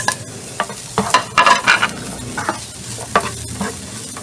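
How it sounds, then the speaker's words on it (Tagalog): Finely chopped onions sautéing in a pan for homemade fried rice, a steady close sizzle broken by several louder bursts of stirring and scraping, with no voices. "igisa lang natin yung sibuyas hanggang sa maging translucent yung kanyang color"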